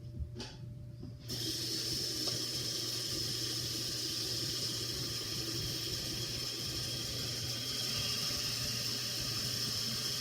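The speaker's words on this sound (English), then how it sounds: "take a medium-sized pot and fill it up halfway with water" Tap water runs steadily into a medium-sized pot being filled halfway for pasta, a continuous broad rushing hiss starting after a brief quiet moment and holding even and close throughout.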